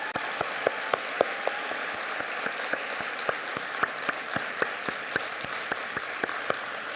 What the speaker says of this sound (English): Please join me in giving a final round of applause for our incredible change